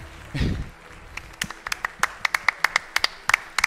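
Scattered hand claps from an audience at an Age of Empires II tournament final build into a sparse, uneven round of clapping after a brief low rumble, moderately close and not very loud.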